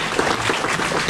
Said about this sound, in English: let's give the red belts and high blue belts a round of applause